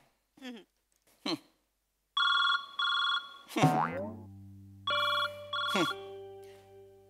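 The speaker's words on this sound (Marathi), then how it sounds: "माझ्या नवऱ्याचा फोन येतोय" An old-style telephone bell rings in two bursts during a comedy sketch, with a couple of cartoonish boing sounds before it and echoing tones ringing out between the rings.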